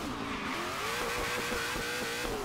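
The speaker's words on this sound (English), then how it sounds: "Let's take this Mustang for a quick rip" In the Forza Horizon 3 racing game, a Ford Mustang engine revs hard and continuously, a bright, busy roar with faint repeating gear or tire bursts throughout.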